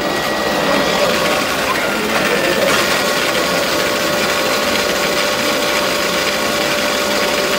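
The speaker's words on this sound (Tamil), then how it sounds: "ஸோ இப்போ வீல் சுற்றிட்டுருக்கு." An electric vehicle wheel spins at speed on a display stand at an electric vehicle expo in Chennai, producing a loud, continuous mechanical whine with a steady high tone and gear-like whirring.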